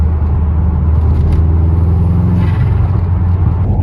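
A Subaru car fitted with a new fiberglass front splitter is driven along, giving a steady, loud low engine rumble and road drone close by, with no talking.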